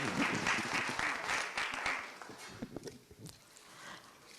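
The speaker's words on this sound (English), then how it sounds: "Please give me a big round of applause." Audience at an International Day of Yoga award ceremony in London applauds, loud at first then thinning into scattered individual claps before a short swell again at the end.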